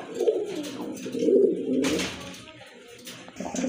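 A pair of pigeons coo in low, throaty rolling phrases, close by and fairly clear, with a faint background hiss and no talking.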